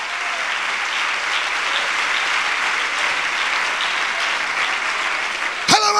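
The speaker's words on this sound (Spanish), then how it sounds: "Puede darles aplauso a Él." Steady, loud applause from a large crowd at a church service fills the space continuously, ending with a brief sharp noise at the very end.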